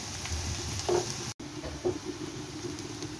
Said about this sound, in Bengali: আমার পেঁয়াজ ভুনাটা হয়ে গেছে, এটা আমি তরকারির মধ্যে অ্যাড করে দেব।